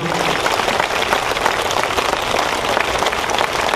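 Loud, sustained applause from an audience honouring the spiritual teacher Patriji at a Dasara music and meditation gathering, dense steady clapping filling the whole stretch with no pauses.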